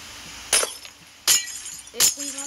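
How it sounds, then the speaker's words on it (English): Glass blocks being broken in a block-building video game, three sharp bright shattering crashes spaced about a second apart, loud and close, with quiet background between them. "We need to break the glass."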